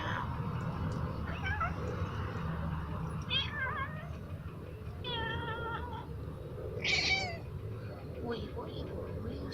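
A house cat meows at birds in several short, rising-and-falling calls spaced a few seconds apart over a steady low background rumble, with no clear speech.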